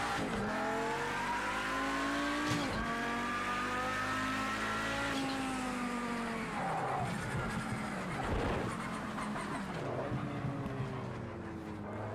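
A race car in a racing video game heads into the pits, its engine note rising and dropping through several gear changes with loud, close revving, then a rougher, quieter stretch toward the end.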